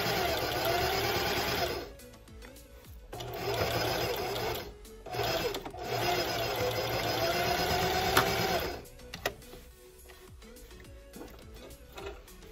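Sewing machine stitching an apron facing, a steady mechanical whir in several runs broken by brief pauses, close and clear with no talk.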